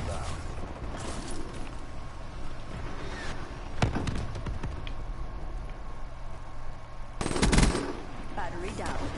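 Automatic gunfire from a weapon in a first-person shooter video game, rattling in bursts against a steady background of game sound, with a person talking over it.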